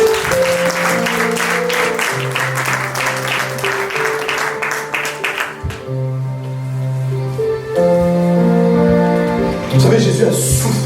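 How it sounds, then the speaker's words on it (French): Church congregation applauding and cheering in praise of the Lord during a worship service, clapping steadily over sustained organ or keyboard chords, with the applause fading midway as the music continues. "On peut acclamer le Seigneur."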